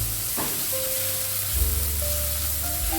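Finely chopped onion sizzles in a pan with cardamom pods, a continuous close frying hiss with a few faint stirring clicks over a steady low hum.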